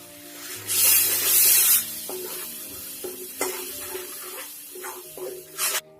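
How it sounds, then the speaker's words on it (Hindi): Ground tomato puree is poured into a hot frying pan while cooking paneer butter masala. A loud sizzling hiss bursts up when the puree hits the pan, then gives way to a quieter simmer, scattered spoon stirs and scrapes, and a final short sizzle. "1-2 मिनट भूनने के बाद इसमें हम टमाटर प्यूरी डाल देंगे जो हमने पीसा था।"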